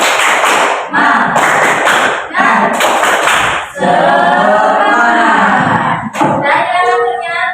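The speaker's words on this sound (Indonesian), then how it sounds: "Tepuk semangat." Classroom of students doing the rhythmic 'tepuk semangat' clap, loud bursts of unison clapping in a patterned rhythm, followed by voices chanting or singing together near the end.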